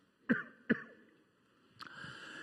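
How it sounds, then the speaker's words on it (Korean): Two sharp coughs in quick succession, close and clear, followed moments later by a third cough trailing into a soft rasp. "죄송합니다. 기침이 나서."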